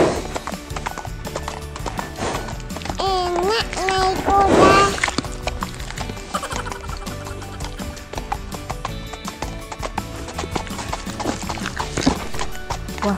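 Horse hooves clip-clop steadily as a horse-drawn delman cart carries children, with a whinny partway through and a busy, noisy backdrop.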